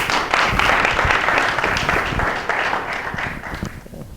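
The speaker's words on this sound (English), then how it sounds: "Big round of applause." A live audience at a product talk gives a big round of applause: dense, loud clapping that starts at once and slowly thins out toward the end.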